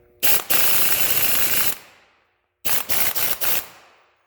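Impact wrench with a socket working on an M35A2 air pack, firing loud rattling bursts: one long burst, a pause, then several short rapid bursts in succession, up close with no talk.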